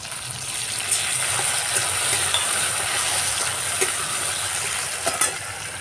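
Cumin seeds and chilli sizzle steadily in hot oil in a pan for a vegetarian banana-flower dish, a dense continuous frying hiss with a few soft stirring clicks and no talk.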